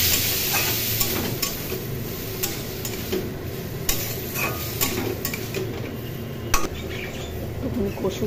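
Masala sautéing in a pan at home, a steady close sizzle with intermittent scraping and clinks of a spoon stirring against the metal, continuous throughout with occasional sharper knocks.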